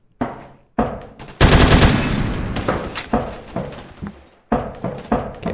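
M60 machine gun firing in a video game: several bursts of loud, close automatic fire, one long sustained burst in the middle and shorter rattling bursts separated by brief pauses.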